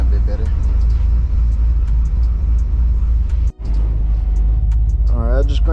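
A '64 Chevy with a freshly swapped 4L80E transmission idles after being cranked back up, a loud, steady low rumble with a brief dropout midway, running a little rough, and no talking over it.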